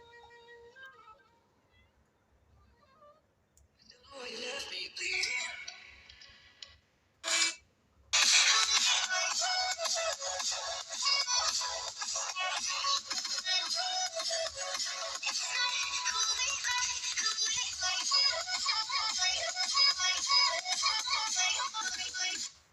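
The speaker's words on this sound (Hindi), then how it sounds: "अब यही सेम सॉन्ग को मैं इस Redmi 11 Prime 5G में प्ले करता हूँ" After a few quiet seconds and some rustling, music starts playing from the small speaker of a Redmi 11 Prime 5G smartphone, bright and thin, continuing steadily to the end.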